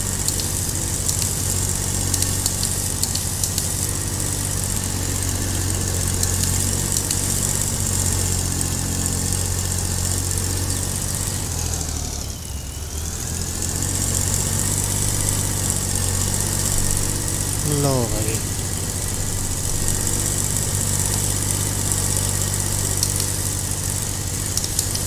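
A tractor engine in the game Farming Simulator 22 with an Indian mod labors loudly while stuck in a pit trying to pull a trolley out, a steady droning, straining rumble with a brief dip midway, no talk.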